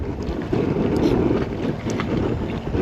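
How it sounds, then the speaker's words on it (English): Wind blowing steadily across a boat far out at sea, a constant low rushing roar buffeting the microphone with slight gusts, no other clear sounds on top. "Try and block that wind."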